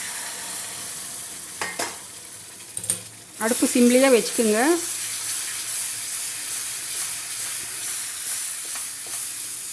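Water pours into ghee-roasted wheat flour in a hot pan with a sizzling, bubbling hiss that swells midway and settles into a steady simmer, while someone speaks briefly.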